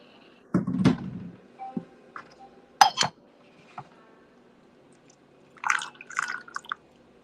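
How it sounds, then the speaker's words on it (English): Water pours and drips over tea leaves in a small vessel during a kung fu tea rinse, with light clinks of ceramic and a second splash of pouring a few seconds later, close and fairly quiet. "I'm going to do a little rinse"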